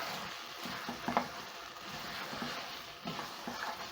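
Rosemary being stirred into a simmering beef stew with bay leaf, giving a steady soft bubbling sizzle with scraping spoon strokes through the pot, close and continuous with no talking.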